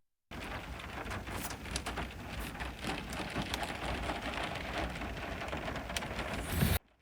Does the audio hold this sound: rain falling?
yes